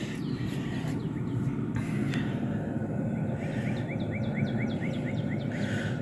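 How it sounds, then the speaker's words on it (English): Faint birds chirp and trill in quick repeated notes over a constant outdoor rumble, distant and light, with no one speaking. "You guys can hear the birds in the background"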